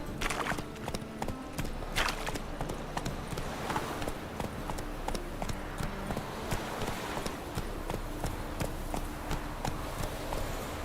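Roach, the horse in The Witcher 3, gallops with rapid, rhythmic hoofbeats that pound steadily and close, joined by a faint whinny and muffled game ambience beneath.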